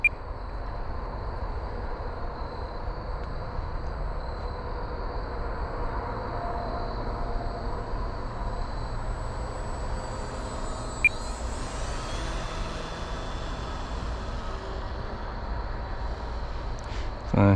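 A paramotor engine drones steadily under throttle in flight, a continuous faint hum with a thin high whine and wind rush over about seventeen seconds.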